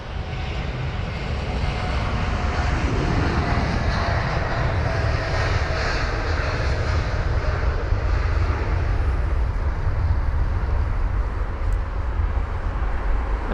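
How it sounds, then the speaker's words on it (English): A United Boeing 787-9 Dreamliner jet airliner at London Heathrow produces a steady, loud engine roar that holds unbroken for over ten seconds, broad and rumbling, with no voices. "that would be the United 787-9 Dreamliner heading to Denver"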